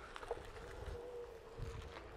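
The tire of a Onewheel Pint S electric skateboard rolls along with a low, steady hum and rumble, faint and continuous, with wind buffeting the microphone now and then.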